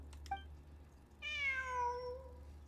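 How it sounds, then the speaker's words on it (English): A cat in the video game Genshin Impact, in a desert setting, gives a single clear, drawn-out meow, preceded by a couple of faint short clicks over a low background hum. "I'm not hearing things. It really is a cat."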